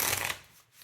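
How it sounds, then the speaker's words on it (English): A deck of cards for a two-player game of War of Beasts is riffled in one short, close burst under a second, then fades out. "To start, you want to shuffle the deck really well"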